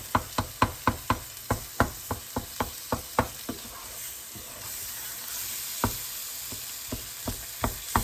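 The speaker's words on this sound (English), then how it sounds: "Just stir that around. I'm going to mash these up a little bit." Tomatoes stirred and mashed in a sizzling pan of tomato gravy, a utensil knocking sharply against the pan in quick regular taps, pausing briefly midway before resuming, close and clear over a steady low sizzle, no voices.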